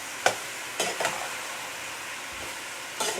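Vegetables are stirred in a frying pan, with a few short scraping strokes of the utensil against the pan over a steady sizzle.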